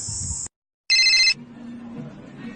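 A telephone rings in two short electronic bursts separated by a brief silence, loud and close, and then gives way to a faint low murmur.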